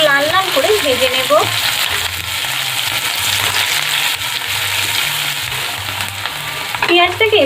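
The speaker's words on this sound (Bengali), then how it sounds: "পেঁয়াজটাকে একটু লাল লাল করে ভেজে নেব।" Chopped onions fry in hot oil, a dense, continuous sizzle that holds steady throughout, with a voice briefly heard at the start and again near the end.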